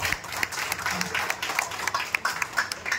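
An audience claps at a gathering honoring a singer, a dense run of quick hand claps from a crowd that holds steady for a few seconds.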